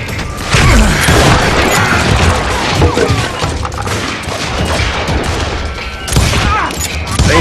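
Gunfire from Call of Juarez Gunslinger, a video game: dense, overlapping volleys of shots crack and boom nonstop for several seconds, loud and close, with no talk.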